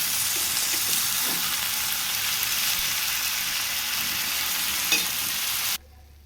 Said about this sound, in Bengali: শাক ভাজিটা হয়ে গেছে